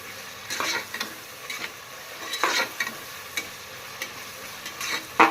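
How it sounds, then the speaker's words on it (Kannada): Onions frying in a pan for village-style chicken biryani, a soft sizzle broken by intermittent scraping strokes of a spoon as they are stirred, close and moderately loud. "ಮತ್ತು ಇದು ಕಮ್ಮಿ ಅಂದ್ರೂ 4 ನಿಮಿಷ ಬೇಯಬೇಕಿದು ಈರುಳ್ಳಿ"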